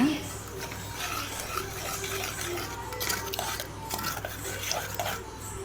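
Chicken goes into a pan of simmering gravy amid steady scraping, stirring and clinking of a utensil against the pan, with a soft bubbling underneath.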